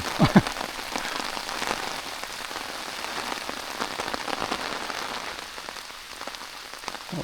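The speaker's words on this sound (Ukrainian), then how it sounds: "І знову пішов дощ." Steady rain patters on surfaces around an angler fishing with a rod and float, a dense, even hiss of drops close by with no voices.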